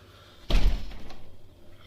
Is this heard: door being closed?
yes